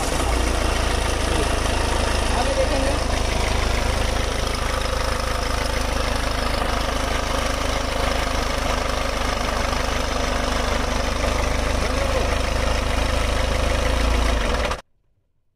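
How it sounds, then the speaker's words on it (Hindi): Ford EcoSport engine idling steadily after starting during a major service check, a continuous low hum heard close up for about fifteen seconds before cutting off, with a brief spoken comment over it. "एक बार गाड़ी स्टार्ट करो"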